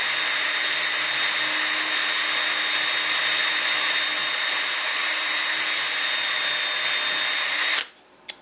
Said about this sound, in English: and then I drill